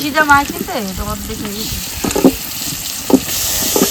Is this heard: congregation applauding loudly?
no